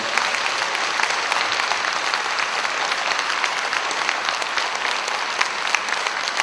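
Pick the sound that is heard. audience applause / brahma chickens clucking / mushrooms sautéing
audience applause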